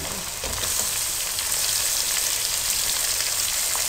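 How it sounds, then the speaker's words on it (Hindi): Tomatoes hit sizzling masala and coriander powder in a pan for mixed vegetable korma, producing a loud, continuous close-up hiss and crackle with no voices. "अब हमने इसमें टमाटर डाल देने हैं।"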